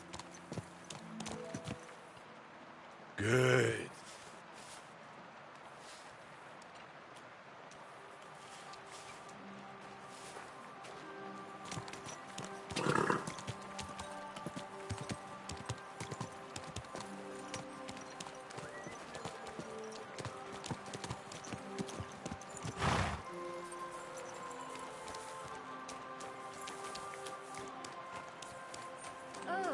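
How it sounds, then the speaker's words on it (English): A horse in the medieval game Kingdom Come: Deliverance II clip-clops steadily through rain, with a few louder thumps and a brief neigh, while someone speaks softly to it. "Easy, good horse."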